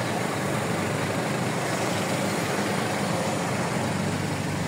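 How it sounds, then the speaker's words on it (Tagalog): A truck rolls along a road near Santa Maria, its broadband engine and tyre roar holding steady and fairly close for several seconds, with no speech. "May truck."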